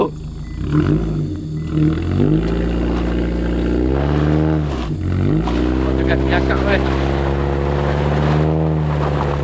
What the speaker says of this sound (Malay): Kereta aku lekat guys.